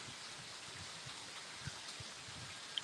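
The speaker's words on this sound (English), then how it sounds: "The rain's starting to come in where I'm out on the front porch." Rain falling on a front porch as wind picks up, a soft, steady hiss of drops with a few brief louder taps, fairly faint and with no talking.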